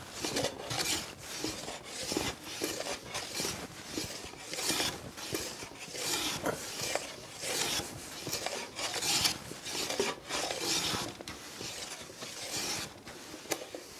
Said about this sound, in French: je vais affûter le fer et puis on va voir ce qu'on peut faire avec un fer bien affûté